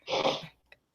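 A single loud sneeze from a podcast guest, a sharp burst followed by a couple of faint breathy sounds, heard alone without talk.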